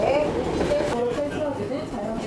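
A slow train in inland Korea, top speed only 30 kilometers per hour, rumbles steadily along the rails at an unhurried pace, with a constant low roar, faint wheel tones and a voice talking over it.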